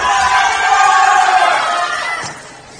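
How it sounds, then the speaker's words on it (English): Spectators at a youth tennis match in an outdoor stadium cheer and shout for a player in a loud, sustained burst that tapers off near the end. "Crowd's really getting behind Huntelaar now. It's good to hear."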